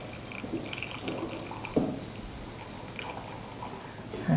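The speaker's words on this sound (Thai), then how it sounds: "เทน้ำลงไปเลยนะคะ" About 450 ml of water is poured onto loose tea leaves during brewing, giving a soft, faint liquid trickle with a brief splash near the middle and another at the end. No one speaks.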